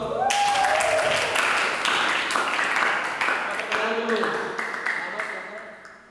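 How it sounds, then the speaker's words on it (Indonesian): Students clapping in a classroom during an anti-corruption lesson for religious school pupils: a steady burst of group applause that continues for several seconds, then fades toward the end, close and fairly loud. "Kasih tepuk tangan dulu dong."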